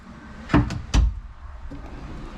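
An RV cabinet drawer on ball bearing runners in a CrossRoads Cameo 3891MK, with solid wood construction, slides and thuds shut twice in quick succession, followed by a faint bump.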